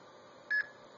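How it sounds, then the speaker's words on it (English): A single short electronic beep from an Arduino-based blue box as it switches into DTMF mode, one clean tone of about a tenth of a second over a low steady hiss. "hear a single beep indicating it's the first mode up from the MF mode"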